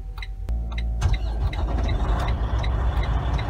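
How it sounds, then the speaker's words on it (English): A Detroit truck diesel engine cranks briefly, then catches and settles into a steady rumbling idle, started automatically by the optimized idle system to recharge low batteries; the sound is close and fairly loud. "optimized idle will start the engine to charge the batteries"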